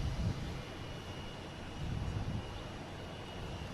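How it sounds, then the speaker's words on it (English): An American Airlines Embraer E175 jet takes off, its engines a steady, moderately distant broadband roar that swells slightly near the start and again mid-way, with no voices. "We have an American taking off. Heading to Cincinnati, the E175"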